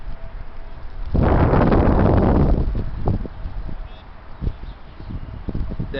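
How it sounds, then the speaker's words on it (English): Heavy wind buffets the microphone with a sudden roaring gust that lasts about a second and a half, then settles into a lower, uneven rumble with scattered pops and rustles. "The heavy wind."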